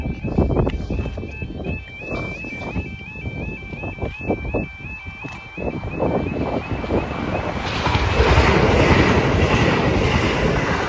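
A train bound for Horsham approaches Funtington level crossing in West Sussex as warbling crossing alarms sound, its rumble and clatter building loud and close toward the end, with some wind noise.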